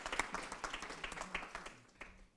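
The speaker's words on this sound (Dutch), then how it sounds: "mag ik ook weer applaus voor Niels?" Audience applause for Niels as he is called forward before a panel discussion: a burst of quick, dense clapping at moderate distance that thins out and fades over a couple of seconds.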